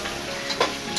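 Onion frying in a pan until reddish, a continuous close hiss of sizzling oil with a faint stirring scrape, brief and without talk.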